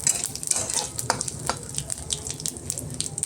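Bay leaves and whole cumin seeds frying in oil in a pan, a steady close sizzle with crackling pops and occasional stirring scrapes, with no voice over it.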